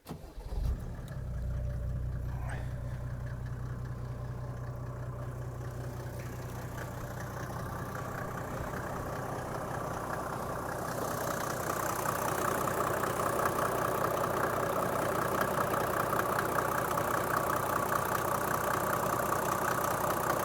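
A Mercedes G-Class pickup's OM606 diesel engine, already slightly warm, cranks and catches, then settles into a steady, rough idle close by, growing slightly louder partway through.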